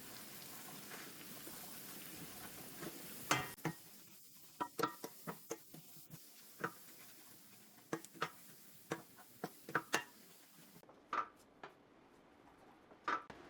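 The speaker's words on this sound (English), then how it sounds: "stir this up here." Someone stirs a corned beef seasoning mixture in a bowl, giving faint, irregular clinks and taps of a spoon against the dish, spaced a second or so apart, with no talk.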